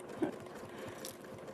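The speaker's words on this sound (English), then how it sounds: "the sewing machine that Angie's using, the 720." A model 720 high-shank sewing machine stitches at a steady fast pace, its quiet motor whirr running continuously in the background of an indoor room.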